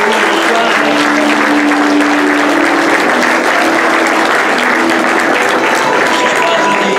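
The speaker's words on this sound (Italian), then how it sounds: "applauso." A crowd at a medieval-themed dinner event applauds loudly and continuously for several seconds, with scattered voices and cheers mixed into the dense clapping.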